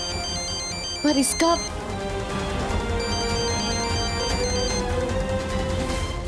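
A mobile phone ringtone plays as a repeating electronic melody through the whole stretch, with people talking over it and a brief louder sound partway through.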